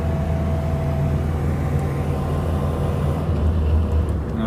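A Morris Minor 1000 drives along in gear, a steady close engine drone and road rumble inside the car, with no one talking.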